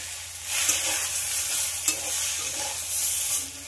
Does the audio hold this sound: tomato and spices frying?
yes